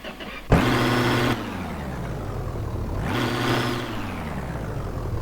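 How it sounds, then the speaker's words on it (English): Two starts of an engine in a truck built from junkyard parts, each a sharp onset rising into a revving drone with a thin turbocharger whine above it, heard close and loud. "Now I can hear turbocharger noises."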